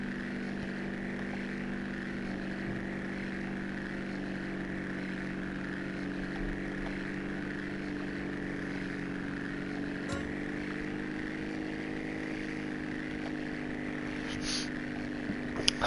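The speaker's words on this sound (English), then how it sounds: "Now I can hear two different planes going at the same time." Two propeller airplanes droning together in GTA San Andreas, a steady layered engine hum with slowly shifting tones, moderately loud and unbroken for about sixteen seconds, with a faint click near the end.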